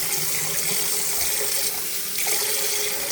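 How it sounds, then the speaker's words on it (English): Hot tap water runs steadily over a cast iron pan in a sink, a continuous close hiss and splash with slight shifts in flow partway through, no talking. "I'm just running some hot water over it"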